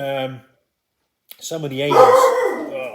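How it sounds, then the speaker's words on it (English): Dogs bark outside, a short burst of loud, harsh barking right after someone speaks briefly, with a moment of silence between. "that's my dog's going nuts now."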